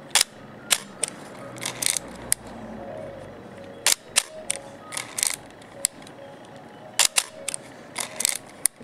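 An Olympus OM-2N film camera fires its shutter repeatedly at manual speeds, giving a series of sharp, close mechanical clicks and snaps spaced irregularly over a quiet room tone.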